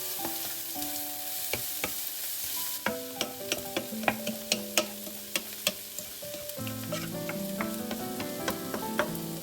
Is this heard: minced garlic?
yes